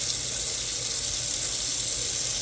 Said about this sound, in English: I get some soapy water in there and I just go at it and just clean the brush all the way through.